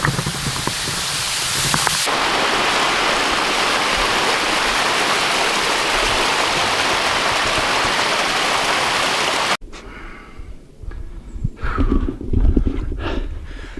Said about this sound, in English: here's a little waterfall